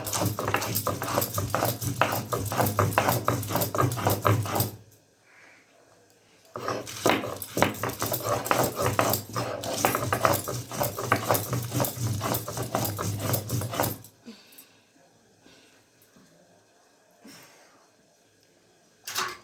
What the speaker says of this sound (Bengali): এই মশলাটা বেটে নিই